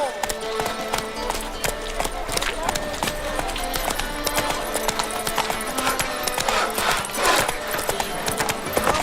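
Geralt's horse Roach gallops in The Witcher 3, with steady rhythmic hoofbeats pounding close by throughout and voices talking over them.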